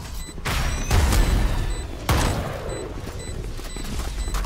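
Shotgun blasts in Valorant: two sharp, heavy booms about a second apart over game ambience and scattered high electronic beeps.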